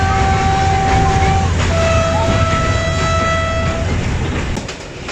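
Lasani Express passenger train running between Narowal and Sialkot, a rumbling rolling train with steady tonal whines and a drawn-out horn-like note, fading slightly at the end.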